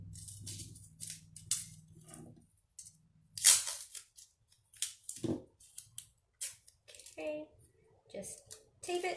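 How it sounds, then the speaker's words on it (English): Adhesive tape pulled off a roll in short rips and pressed onto folded foil for a kids' foil tooling craft, with crinkly foil handling between bursts, heard close up and fairly quiet. "and then I'm going to tape it."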